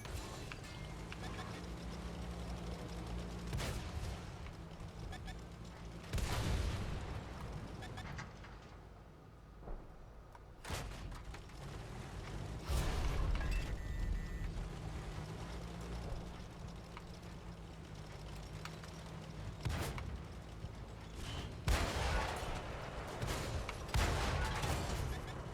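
Tank cannon fire in World of Tanks: several loud, irregularly spaced booming blasts over a dense background of battle rumble.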